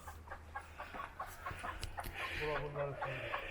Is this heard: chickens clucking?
yes